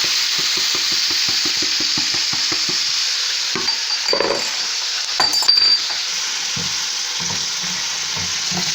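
Rice and toasted vermicelli stir-fried in a pan for pilaf, a steady loud sizzle with quick rhythmic scraping strokes at first, then scattered clinks of a utensil against the metal pan, no voices.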